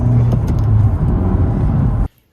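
A 10th-generation Honda Civic engine runs loud and steady for about two seconds, a faint turbo spool whir barely showing over the engine note, before cutting off abruptly into silence.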